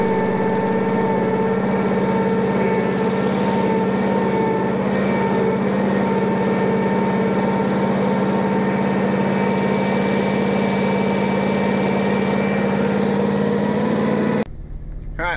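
A tractor engine runs steadily during road work, a loud close drone with a low hum and constant tonal whine, before it cuts off near the end.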